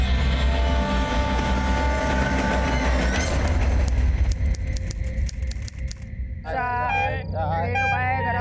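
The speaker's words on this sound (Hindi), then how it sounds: "ट्रेन तो आ गई अम्मा" A train pulls into a railway station with a loud, continuous rumble and rattle of wagons, then its noise drops away and voices come in over the platform bustle.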